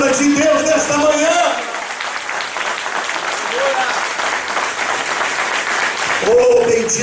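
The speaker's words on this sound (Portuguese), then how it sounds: "Vamos aplaudir esta palavra de Deus nesta manhã" Loud applause from a youth congress audience at a morning church service, a sustained wash of clapping hands with a voice speaking over it at the start and again near the end.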